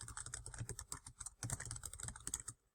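Rapid typing on a computer keyboard, close and fairly quiet, with irregular bursts of clicking keystrokes and short pauses, ending in silence.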